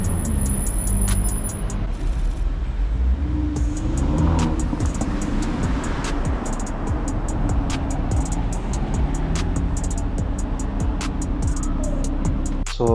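A Ferrari 296 supercar drives along a London street, giving a steady engine rumble under constant traffic and wind noise that fills the whole stretch, with no clear peak as it goes by.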